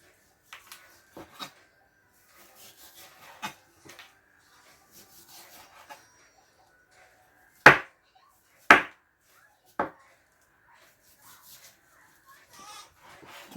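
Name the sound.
knife shaving fat off semi-defrosted frozen pork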